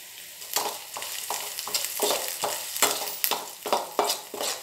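Meal maker chunks fry in a pan with ginger garlic paste, a steady sizzle broken by repeated rhythmic scrapes of a spatula stirring, close and fairly loud with no talking.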